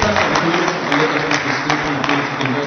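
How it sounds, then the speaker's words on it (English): Sustained audience clapping at a summit as the keynote speaker, an economics professor, heads to the stage; an even, moderately loud patter with a few sharper claps, and a voice murmuring faintly underneath. "Please keep the applause coming"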